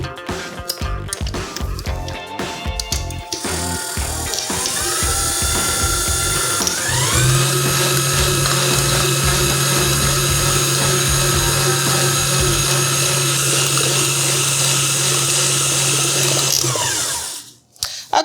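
A KitchenAid Artisan Mini 3.5-quart stand mixer with an open paddle, running steadily with a whirring motor hum. It starts with uneven churning, settles into a constant drone, then stops near the end.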